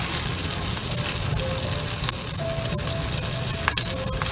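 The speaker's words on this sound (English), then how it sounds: "They will be shallow fried, right?" Red kidney bean kebabs shallow frying in a pan of oil give a steady, close sizzle with faint crackles and pops, continuous throughout with no talking.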